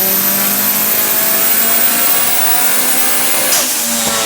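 A 500 horsepower car engine revving hard on a dyno, a loud, sustained roar that climbs steadily in pitch, then briefly dips and picks up again near the end, with no talking.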